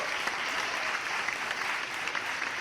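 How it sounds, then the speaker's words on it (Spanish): Steady, dense audience applause from a crowd after an interview segment, continuous and fairly even throughout with no voices standing out. "un aplauso para Andrés Llena, por favor"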